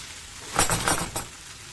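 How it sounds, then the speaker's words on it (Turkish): Meatballs cook in a pot for Valide Sultan soup, giving a soft, close bubbling and sizzle with a few faint clinks in the middle, otherwise quiet. "Evet gördüğünüz gibi köftelerimiz de gayet güzel pişiyor"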